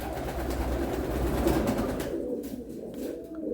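A pet pigeon coos nearby, a low rolling throaty murmur that carries steadily before fading toward the end, with no talking.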